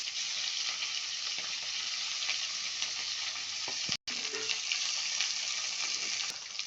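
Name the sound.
chicken 65 pieces frying in hot oil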